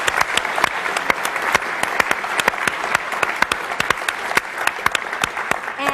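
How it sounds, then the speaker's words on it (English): An audience at an entrepreneurship forum on Silicon Valley innovation breaks into sustained applause, a dense, lively patter of many hands clapping at full volume for the whole stretch, with no talking over it. "So let's give them a round of applause."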